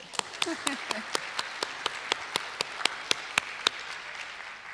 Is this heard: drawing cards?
no